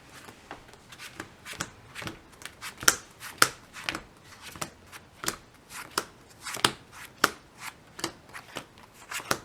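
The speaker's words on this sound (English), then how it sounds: "I'm just going to shuffle them up." Playing cards for a heist-themed dinner party game being shuffled by hand, a run of sharp, crisp riffling snaps and soft slides repeating unevenly and close up, heard alone without talk.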